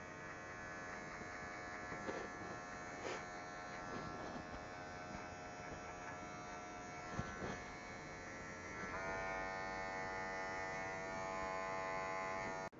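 Electric hair clippers buzz steadily at close range while cutting hair for a skin fade, a continuous hum that shifts slightly in tone partway through.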